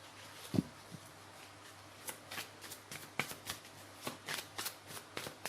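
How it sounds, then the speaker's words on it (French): Tarot cards being shuffled and drawn by hand, a run of quick riffling snaps and slides in a steady rhythm, close and crisp in a quiet room. "alors je vais piocher une carte"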